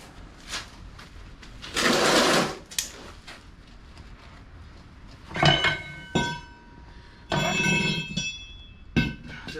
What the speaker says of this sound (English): Now we'll be able to pop the axles out and get to the actual